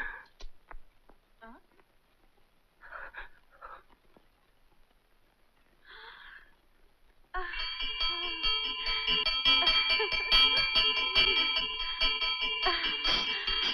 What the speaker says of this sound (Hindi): घंटी बजने का आवाज किधर से आता है?